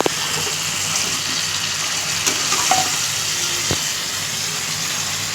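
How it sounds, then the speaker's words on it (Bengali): Chopped tomato, green chilies, ginger and coriander fry in a pan as masala for aloo dum, a loud, steady sizzling hiss with a couple of faint clicks, no speech. "এবার আছে মশলাটা আস্তে আস্তে কষতে থাকবে"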